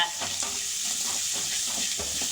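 Green chilli, curry leaves and coriander sautéing in a pan, a steady close hiss and sizzle with a few soft stirring scrapes, continuous and fairly loud throughout.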